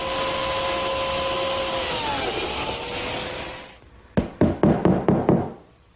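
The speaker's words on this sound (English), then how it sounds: "I'll simply run the biscuit joiner against the level and cut the slots" A biscuit joiner cutting slots in a wooden tabletop, guided along a clamped level, whines steadily for several seconds and then winds down, followed by a quick series of about six sharp wooden knocks.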